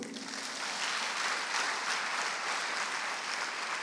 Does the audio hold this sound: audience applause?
yes